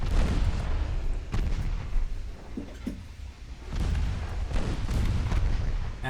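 A torpedo strikes a warship in the naval strategy game Ultimate Admiral Dreadnoughts, setting off loud, deep booming explosions that repeat in several heavy bursts over a rumbling battle backdrop.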